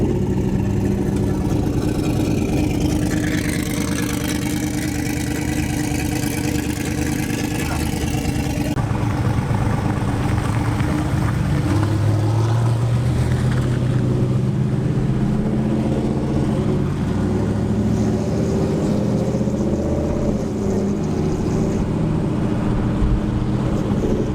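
A ball-bearing True North turbocharger winds down on a car engine. A loud, sustained whirring drone with shifting tonal whines runs continuously under a steady engine rumble.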